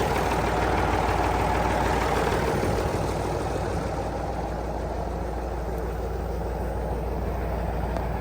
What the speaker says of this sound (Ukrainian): гусеничний трактор цим справляється.